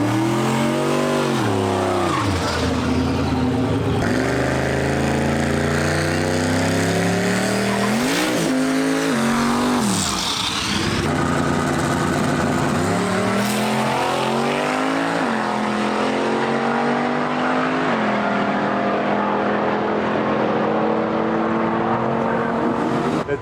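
A turbocharged Mustang drag car on stock suspension and a stock 8.8 rear end, running in a radio class at a drag-and-drive race, revs hard and accelerates with rising engine pitch, loud and continuous, with bursts of tire squeal.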